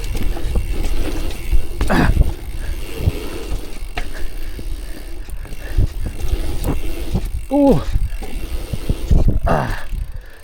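A mountain e-bike rolls over a wet pump track, tyres rumbling and crunching with rattling mechanical clunks over ups and downs, close to the rider.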